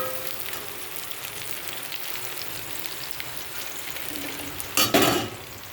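Green chillies fry and get stirred in a pan, a steady fine sizzle with scraping strokes throughout, ending in a louder burst of spatter and stirring near the close.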